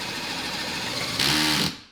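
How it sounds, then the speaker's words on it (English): Power drill driving through a disc, a steady motor whir that grows harsher and louder near the end as the bit bites in, then winds down quickly, close with no talking. "How powerful do you think this drill is?"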